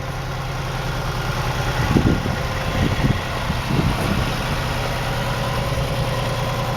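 A Chevy 4.3 V6 swapped into a Series Land Rover idles outdoors with a steady low rumble and a faint high whine, a few soft knocks or blips around the middle, no talking.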